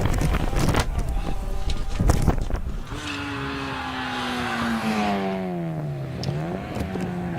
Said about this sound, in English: Into Farmhouse at the moment, John Ellis in the Honda Civic Type R.